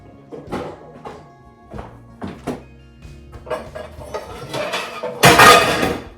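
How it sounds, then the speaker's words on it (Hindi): Dishes are unloaded from a dishwasher in a home kitchen: scattered clinks and clatters of plates and utensils come in irregular bursts, ending in a louder, denser rattle near the end. "एक बार के बर्तन खाली करे हैं अभी डिश वॉशर से"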